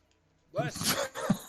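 A sudden close sneeze bursts out of silence, followed by a short second vocal catch, loud and abrupt.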